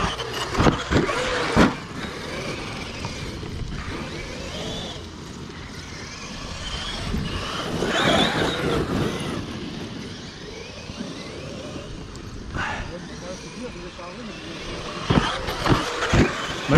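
A Traxxas X-Maxx radio-controlled car driving around a figure-eight track, its electric motor whining and surging from near to far, with sharp clatters and bumps and faint voices in the background.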